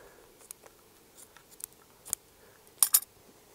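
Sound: cutting off a plant root

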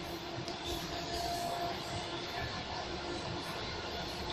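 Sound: suburban electric train riding

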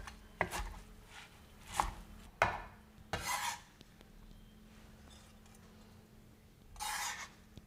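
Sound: knife chopping soaked glass noodles

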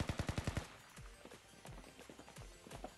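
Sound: gunfire in the video game Blue Archive

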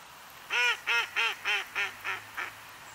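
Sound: mallard duck quacking

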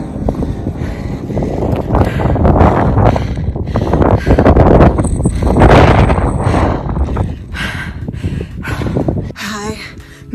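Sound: wind on a mountain summit

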